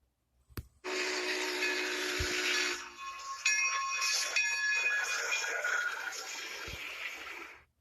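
A steam locomotive whistle sounds in a long, loud, steady blast with a ringing bell tone joining midway, faint knocks at the start and no talking.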